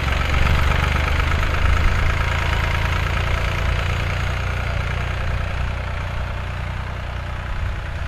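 A tractor engine idles on a farm, a steady close mid-to-low rumble with a faint knocking texture, continuous throughout with no talk.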